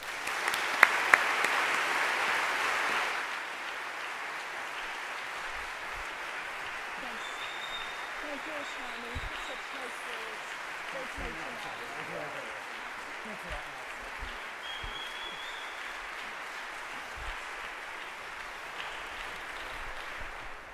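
An audience welcomes speakers onto the stage with steady, dense applause, clearer and brighter for the first few seconds, then continuing more softly with scattered claps and murmuring voices underneath.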